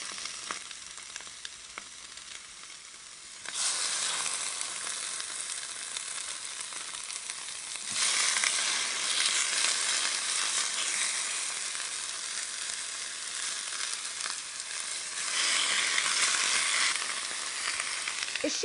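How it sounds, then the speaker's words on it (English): Pork chops fry in a skillet with a steady, close hiss that swells louder in waves as the meat settles, continuing unbroken without any talk. "I'll add the pork chops, and I'm going to let them cook for 2 to 3 minutes per side"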